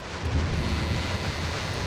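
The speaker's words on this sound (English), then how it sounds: "In this torrential rain." Torrential rain with rolling thunder in the horror game Suffer The Night, a dense, steady roar of heavy downpour and low rumble filling the scene with no voices.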